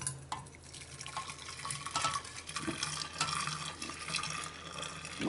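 Malt wort is poured into an Erlenmeyer flask, making a continuous close splashing and trickling stream with small gurgles and drips, steady for about five seconds with no talking.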